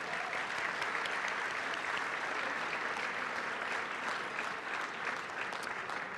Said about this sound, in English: Let's give him a round of applause for being here tonight.